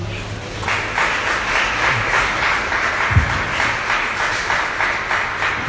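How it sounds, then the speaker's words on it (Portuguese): A church congregation applauds at a Portuguese-language service honouring the pastor, with steady sustained clapping throughout and a couple of brief low thumps in between. "Você pode aplaudir a Jesus?"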